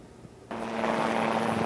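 Helicopter rotor and engine noise from a presidential entourage, rising suddenly to a steady loud whir after a quiet moment.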